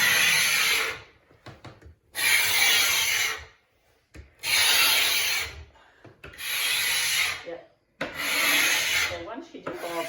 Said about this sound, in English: So this is what I do to get the lacquer off.